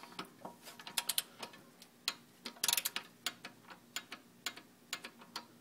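A torque wrench tightening an oil filter on a Nissan 350Z during an oil change gives off a quick, irregular run of faint ratcheting clicks, with a brief cluster of sharper clicks partway through.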